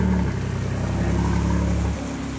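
Deep, continuous growl from the in-house built engine of an Aston Martin Superleggera, heard close and loud as a steady low rumble with a slight dip in pitch near the end.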